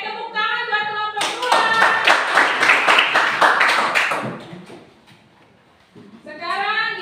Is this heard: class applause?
yes